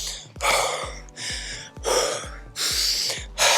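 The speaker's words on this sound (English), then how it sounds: "How I'm breathing right now? I'm out of breath." A runner out of breath after running gasps hard in short, loud bursts, about five or six heavy inhale-exhale cycles in quick succession, close up with no talking.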